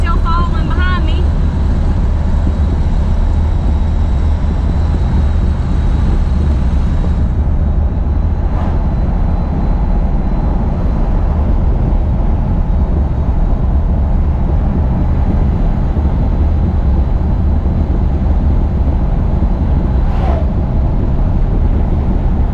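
A 1975 Corvette or 1985 Suburban cruises along the road toward a gas station, giving a steady, loud, close engine rumble and road noise that holds constant for the whole stretch.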